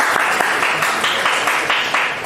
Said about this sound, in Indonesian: boleh tepuk tangan untuk kelompok